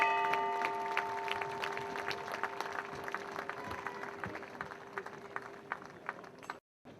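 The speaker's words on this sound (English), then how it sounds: "Ladies and gentlemen, give them a round of applause" Crowd applause at the Queens Cup polo final, a soft scattered patter of clapping heard at a distance, with a steady tonal hum and occasional sharper claps before it cuts off.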